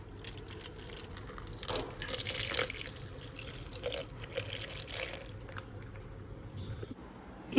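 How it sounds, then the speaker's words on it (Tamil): Milk being poured into a blender for a peanut butter smoothie, a quiet liquid trickle and dripping with soft splashes coming in bursts, fairly faint and close by. "நான் வந்து பால் சேர்க்குறேன்"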